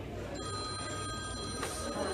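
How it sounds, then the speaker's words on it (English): A mobile phone rings faintly in a quiet room, a thin trilling ringtone repeating throughout under low background hum. "Is that my phone?"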